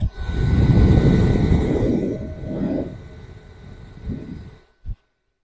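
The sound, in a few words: Xiaomi AISOLOVE F01 handheld turbo fan running at first speed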